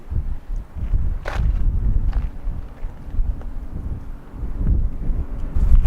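Wind at Hoover Dam batters the microphone in loud, continuous low rumbling gusts that rise and fall, with a few faint scuffing sounds mixed in.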